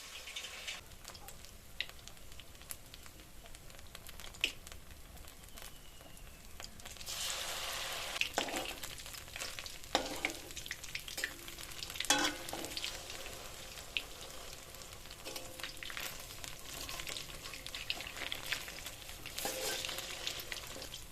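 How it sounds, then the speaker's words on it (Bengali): Chicken cheese bread rolls, dipped in batter, fry in hot oil with a steady crackling sizzle that swells louder and busier partway through, with occasional sharp pops; no talking. "তেলটা মোটামুটি গরম হয়েছে, এবার রোলগুলো ছেড়ে দিয়ে ভেজে নেব।"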